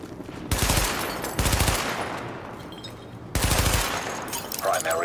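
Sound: gunfire at targets in a weapon test, video game The Division

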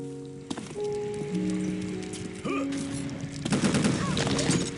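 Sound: suppressing gunfire in video game Unreal Tournament 2004

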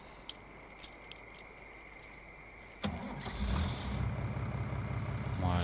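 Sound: farm vehicle driving in Farming Simulator 19 video game

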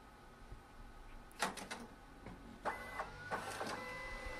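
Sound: Citizen OP 900II photo printer printing

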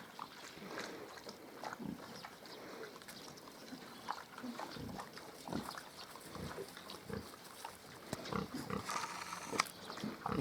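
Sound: Hungarian Mangalica piglets grunting

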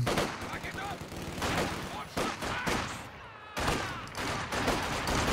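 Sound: machine gun fire in video game Company of Heroes 2

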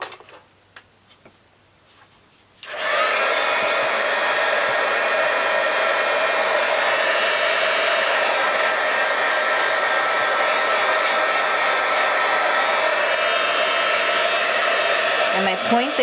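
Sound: heat gun heating shrink plastic

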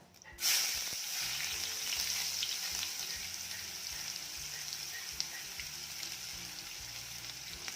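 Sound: finely chopped onion sautéing with hing for dal fry

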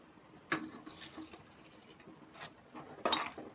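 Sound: water poured into mixer jar

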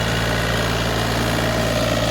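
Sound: John Deere tractor engine

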